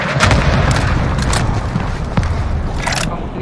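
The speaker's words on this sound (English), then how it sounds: "Incoming, bombing run." Bombing run explosions in Call of Duty Warzone on the Verdansk map, heavy rumbling booms rolling continuously with several sharp blasts layered over a dense low roar, loud and close throughout.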